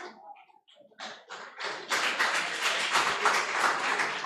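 Church congregation applauding during a Sunday evening service: a few scattered claps at first, then dense, steady applause from a full room continuing to the end.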